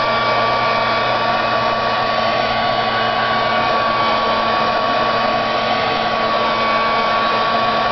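A hair dryer blows steadily and loudly over a card freshly sprayed for a Valentine's craft, a continuous whooshing roar with no break from start to end.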